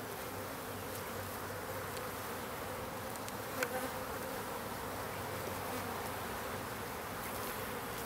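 Honeybees buzzing steadily around hive frames being handled, a dense, continuous drone of many insects close by with no speech.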